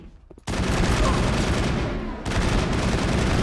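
Sustained heavy gunfire in a Mass Effect firefight, a dense, loud barrage bursting in abruptly after a brief quiet moment and continuing with rapid overlapping shots, with people talking faintly underneath.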